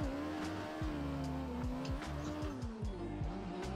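Drift car in Assetto Corsa, a pro-level competition car, its engine droning steadily with rapid gear-shift revs and a continuous tire squeal, loud and close with no talk over it.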